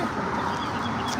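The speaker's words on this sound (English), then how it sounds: "You hear the birds chirping?" Chickens cluck and chatter continuously at close range in a short burst, with no voices.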